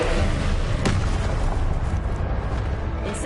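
Spell blasts from the Hogwarts Legacy video game: a dense, loud rumbling wash of explosive bursts with one sharper crack early on.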